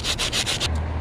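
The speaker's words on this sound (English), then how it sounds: "I'm going to do a little bit of sanding" Rhythmic rasping strokes of sandpaper rubbing back and forth on wood, close and steady, about five quick passes.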